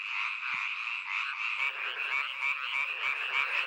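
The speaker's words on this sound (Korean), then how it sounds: "청개구리 수컷입니다." Male tree frogs call loudly and continuously in a dense chorus, with steady rapid croaking trills and no voices present.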